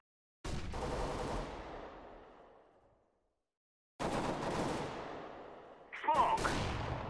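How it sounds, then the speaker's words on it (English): A flashbang grenade goes off in Counter-Strike: Global Offensive on the Cobblestone map during a professional match. Two sharp, loud blasts each ring out and fade slowly, and a brief harsher burst cuts in near the end. "I'm throwing a flashbang."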